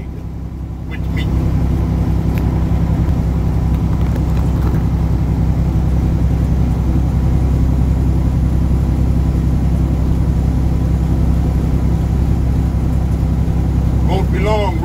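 A road vehicle's engine hums low and steady as it rides along the road, with a constant drone and road rumble that barely change.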